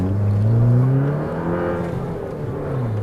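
A Fiat 500 Abarth engine revs hard as the car accelerates, a loud rising drone heard from inside that climbs, peaks and then settles into a steady whir.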